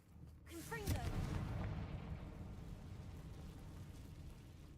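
A single booming blast from the Confringo fire spell in Hogwarts Legacy bursts out, then leaves a long rumbling, crackling tail that slowly fades.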